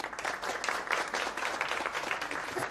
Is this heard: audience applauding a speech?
yes